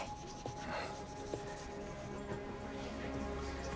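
Pencil scratching across paper while sketching a portrait, soft rubbing strokes in short bursts at close range, with faint background ambience and no talk over it.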